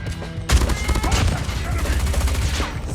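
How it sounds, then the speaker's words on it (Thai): Rapid bursts of loud, close gunfire from the OTs 9 Malebranche gun in Call of Duty Mobile crackle continuously after a brief quiet start, punchy and sustained like automatic fire. "เสียงปืนมันฟังดูเฟี้ยวเดียวเหมือนมันแรงอะ่ะ"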